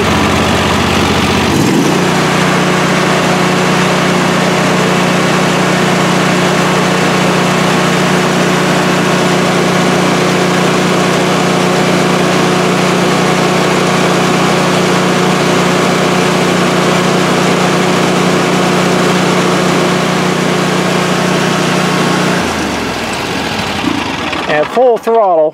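A Bad Boy ZT Elite zero-turn riding mower engine starts close by, settles into a loud, steady drone for about 20 seconds, then shuts off, with a few knocks and handling sounds at the end.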